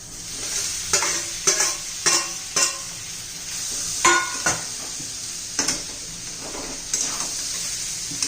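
Raw papaya pieces stir-fried with spices and coriander powder in a pan, a steady sizzle broken by repeated scraping strokes of a spatula against the pan, close and clear.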